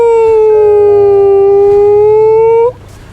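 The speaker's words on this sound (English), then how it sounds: "the sound of the like sirens going" A siren in the video game Easy Delivery Co. wails as a loud, steady tone for almost three seconds, then cuts off abruptly, leaving a faint hum.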